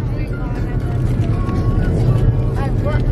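Jeep Grand Cherokee Trackhawk under way, its supercharger adding a steady, rising whine over a loud continuous engine and road drone, with people talking over it inside the cabin.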